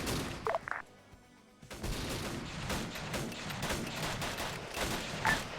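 Enemy automatic rifle fire in a military video game: after a brief quiet pause, sustained rattling bursts of gunfire roll on steadily at moderate distance, with a few short sounds before the lull.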